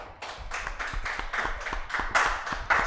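A small audience claps for a high school team at a back-to-school quiz show, quick uneven handclaps from only a few people, moderately close and lasting about three seconds.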